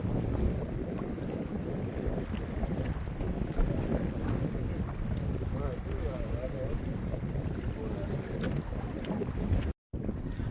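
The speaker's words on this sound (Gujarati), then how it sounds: "પવન નીકળી આવ્યો છે" Wind gusts buffet a small fishing boat out at sea while stingray fishing, a steady rough rushing noise with microphone buffeting and low water wash, continuous and fairly loud throughout.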